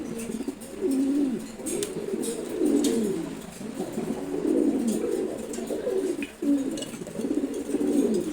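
A male red checkered pigeon coos close by in repeated soft, throaty rolling phrases over faint background noise, with no talking.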